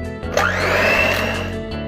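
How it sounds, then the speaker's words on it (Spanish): An electric mixer beats eggs and sugar for a pineapple upside-down cake, a loud continuous whirring drone with a slight rise in pitch as the blades work the batter. "Vamos a batir por unos 2 minutos solo para que se disuelva."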